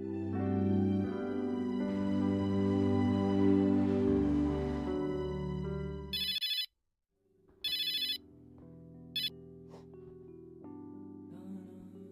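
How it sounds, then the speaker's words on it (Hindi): A landline telephone rings in a few short bursts after music cuts out, the rings fairly loud and spaced apart, with a low tone continuing underneath. "लैंडलाइन पर कोई फोन आया था तुम्हारे लिए"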